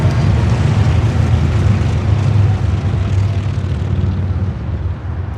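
Airbus A320 arriving at LAX from Houston, Texas, a loud low engine rumble with a humming drone that eases slightly toward the close, without talk.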